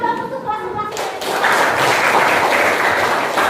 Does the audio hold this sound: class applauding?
yes